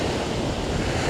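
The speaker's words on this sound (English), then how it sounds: "it is really windy because my wide brim hat looks like it's going to fly off" Strong wind roars against the microphone over crashing surf at a sunny Hawaiian beach, a loud, continuous and unbroken rush.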